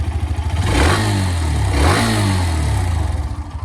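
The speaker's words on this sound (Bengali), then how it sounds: "ইঞ্জিনের সাউন্ডটা আমি শোনাই দিই" A Hero Xtreme 125R motorcycle engine revs up twice in quick succession, rising and falling in pitch, then settles back to a steady close idle with no talking.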